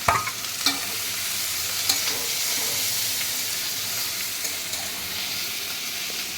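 Puti fish in mustard paste fries in a pan with a continuous loud hiss and sizzle, punctuated by occasional sharp clinks and scrapes of stirring, close up and free of speech.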